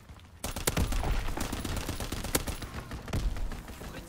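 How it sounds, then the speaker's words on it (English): Enemy aircraft strafing run in Call of Duty WWII, rapid dense bursts of gunfire cracking nonstop at close range with a few louder impacts standing out. "Enemy strafing run inbound."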